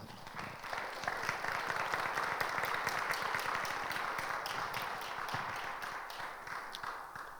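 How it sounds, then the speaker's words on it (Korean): A Korean church congregation applauds in thanks after a sermon and a special song at a men's mission dedication service. Dense, sustained clapping fills the sanctuary for several seconds, then tapers slightly. "감사의 표시로 모두 박수로"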